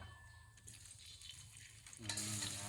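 Hot oil sizzles steadily in a wok, then a louder burst of frying crackle erupts as garlic hits the pan, continuing as a bright, close sizzle.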